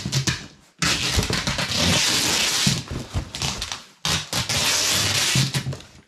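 Packing tape pulled off the roll and pressed onto a large cardboard shipping box, two long loud ripping-screech bursts with a short pause between them, close up and without talk.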